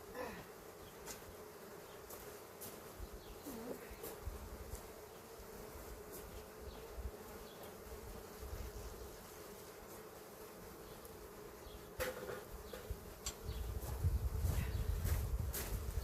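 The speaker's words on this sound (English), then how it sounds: "Bees go attacking." Honey bees swarm around an open hive during a first honey harvest, a continuous faint buzz of many insects with individual bees droning past closer now and then, rising toward the end.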